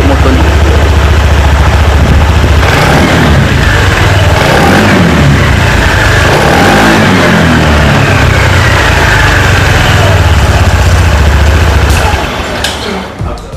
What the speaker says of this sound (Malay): Jom kita rem sikit motor ni.